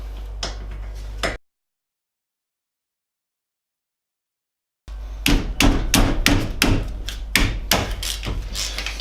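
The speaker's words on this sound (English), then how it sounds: "holding the ratchet on, and as I just did then, tapping with the palm of your hand" A palm taps a ratchet on a stiff nut on a classic Mini in a run of sharp, close metallic knocks, with a brief burst before a silent gap and a quick series after.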